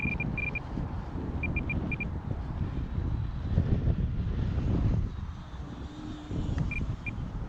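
E-Flite Viper 70mm EDF RC jet flying past on a windy day, a steady ducted-fan whoosh mixed with heavy wind buffeting on the microphone, moderately distant with intermittent high beeps.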